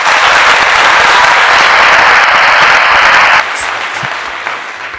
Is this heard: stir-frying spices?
no